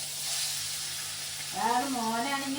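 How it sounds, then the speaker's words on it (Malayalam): Mackerel fries in coconut oil with green chillies, a steady hissing sizzle that continues faintly beneath a voice that starts speaking halfway through. "അപ്പൊ ഇതാണ് ഞങ്ങളുടെ മീൻ പച്ചമുളക് ഇട്ട് വറുത്തത്"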